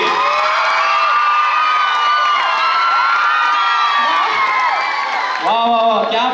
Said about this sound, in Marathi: जोरदार टाळ्या वाजवूया पल्लवी वैद्य यांच्यासाठी